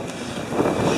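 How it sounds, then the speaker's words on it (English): Wind buffets the microphone in a low, steady rumble with gusty swells, loud and close, no voices heard. "It's also a little windy today."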